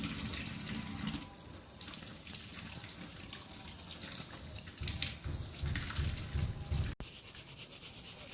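Tap water runs into a sink while crab is washed by hand for chilli crab curry, a steady close splashing with rubbing and scrubbing noises and a brief clack near the end.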